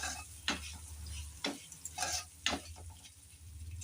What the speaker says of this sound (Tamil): பச்சை வாசனை போகிற அளவுக்கு நல்லா வதக்கிக்கிறணும்.